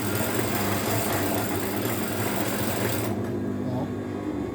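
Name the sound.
Typical sewing machine running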